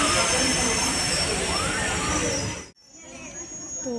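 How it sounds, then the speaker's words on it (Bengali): A train pulls into a railway station where the Agartala service waits, giving a loud, broad rumbling roar over crowd hubbub that cuts off sharply near the end, leaving quieter platform ambience. "তো তোমার আগরতলার ট্রেনটা এসে গেছে"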